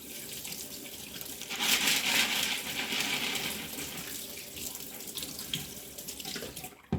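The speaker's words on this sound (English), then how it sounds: "It's saying to rinse the pasta in hot water." Pasta rinsed under hot running tap water in a sink, a close, steady rushing stream that swells louder midway, then settles and ends with a small clatter.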